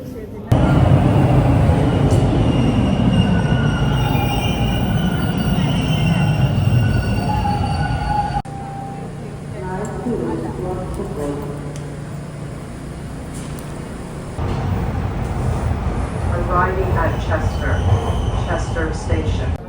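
A subway train in Canada rumbles and rattles along with shifting wheel noise and occasional metallic squeals, while people talk nearby over the din.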